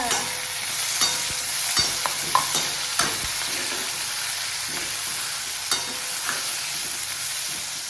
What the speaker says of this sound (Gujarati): હવે નખાય છે ટમેટા ટમેટા